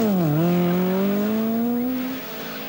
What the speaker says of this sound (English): Flat out in 5th gear, Toivonen continues his pursuit of the Audi.